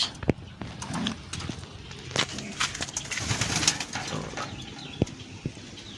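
Racing pigeons coo softly amid wing flaps and scattered clattering knocks, with a busy outdoor bustle throughout, during training for a pigeon race in Agdangan, Quezon.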